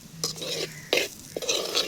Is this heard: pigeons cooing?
no